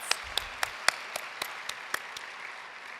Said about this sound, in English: We can't clap too much for our kids.